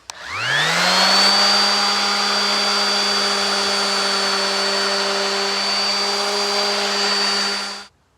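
A power sander smoothing wooden cornhole board pieces spins up and runs with a steady high whine and hum, loud and close, for several seconds before shutting off.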